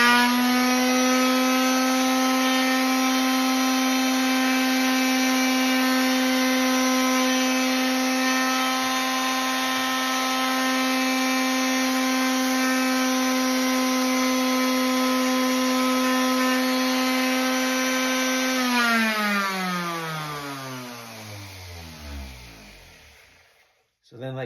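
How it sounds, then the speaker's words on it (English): Electric sander running steadily while smoothing small round wooden pegs for a chunky blanket loom, a loud constant motor whine that holds for about twenty seconds, then winds down and stops. "I set up my sander in here so I don't have to do it by hand"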